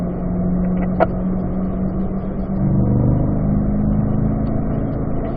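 A car on a race track accelerating up through the gears to fourth, a loud, close, steady engine drone with a brief shift and rising pitch partway through, heard alone.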